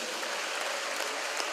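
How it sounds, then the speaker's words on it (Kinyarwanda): A church congregation applauds, giving a dense, steady wash of clapping from many hands that fills the whole moment, loud and continuous with no speech over it. "Iteraniro ryose twaha Imana yacu amashyi menshi cyane."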